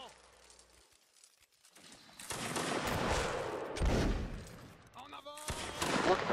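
Napoleonic-era musket fire rings out in a Mount & Blade: Warband battle, with scattered shots followed by loud, ragged volley bursts near and far over several seconds.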